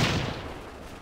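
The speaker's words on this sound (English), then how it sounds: "A lot of explosions. Lots of kersplosions." Loud gunfire and explosions in the battle game Brass Brigade: Battle Simulator, set on the streets of Berlin during a Red Army assault. A dense, rumbling blast opens the moment and then gradually fades into a lingering roar.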